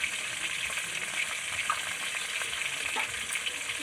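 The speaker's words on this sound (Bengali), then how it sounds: "এই সামান্য একটু জিরা দিয়ে দেবো" Cumin seeds dropped into hot oil for a fish curry with ridge gourd, crackling and sizzling steadily at close range with small pops scattered through, no voices.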